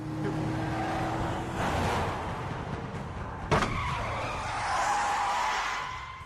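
A car skids to a stop with a long, hissing tire slide and a sharp thump midway, close and fairly loud, then the noise fades.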